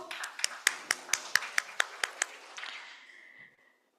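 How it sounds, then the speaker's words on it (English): About a dozen sharp, evenly spaced claps from a small group, loud and close, trailing off into a fading ring after three seconds. "Can we have a round of applause for all of you here?"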